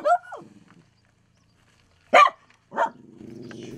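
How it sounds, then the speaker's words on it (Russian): A dog barks a few times in short separated bursts at moderate distance, with a quiet gap between, followed by low background noise; no one speaks over it. "Гавкает, но дружелюбно виляет хвостиком."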